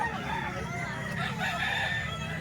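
Stag gamefowl rooster crowing loudly and close, a sustained cock-a-doodle call filling the short stretch, with some faint background noise.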